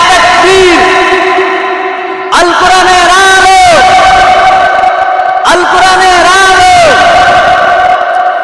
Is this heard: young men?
yes